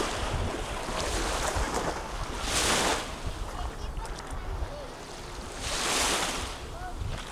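Waves wash onto a beach in repeated surging swells, two louder crashes rising over a constant roar of surf and wind buffeting the microphone.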